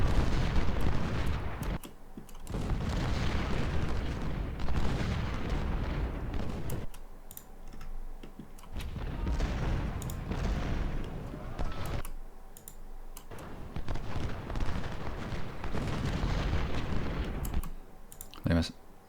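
Cannon artillery from the Civil War strategy game Ultimate General: Civil War fires in repeated booming bursts with short pauses between them, during the Siege of Suffolk, and a voice talks over parts of it.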